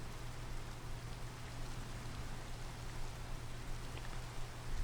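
A steady rainstorm hiss from a video game with a custom shader forms a constant, even wash of falling rain with no breaks. It plays quietly and alone.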